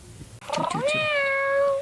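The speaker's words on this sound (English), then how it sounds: "a little robotic cat named Ombi is more than just a funny tech pet" A small robotic pet cat gives a clear, drawn-out electronic meow with a rising, wavering pitch, preceded by a few short chirps, close and alone in a quiet room at a senior care facility.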